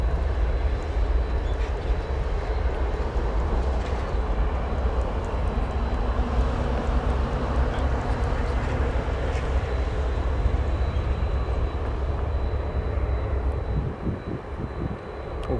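Jet airliners at Chicago's O'Hare airport, a steady, loud engine roar holding throughout with deep rumble, dipping slightly near the end as aircraft move about the field.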